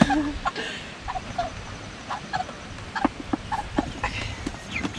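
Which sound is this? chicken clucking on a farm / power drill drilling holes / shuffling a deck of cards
chicken clucking on a farm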